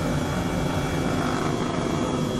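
H135 helicopter flying over Tuscany in a flight simulator, a dense steady rotor and turbine roar, loud and close, unbroken throughout.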